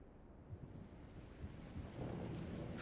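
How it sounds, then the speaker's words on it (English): Rain pours steadily in a storm scene in the video game Trails in the Sky, with low thunder rumbling underneath and swelling heavier toward the end; no voices are present. "Rain?"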